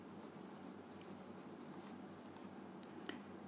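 A pen scratches steadily across paper during a Hindi class lesson, faint and close, a soft continuous scratching with no voices.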